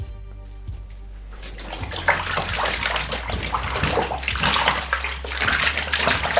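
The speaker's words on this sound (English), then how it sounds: "all I'm doing right now is stirring up the water, getting the soap mixed around" Soapy water for washing dirty hiking clothes and gear is stirred by hand in a tub, making continuous close sloshing and swishing with no talk.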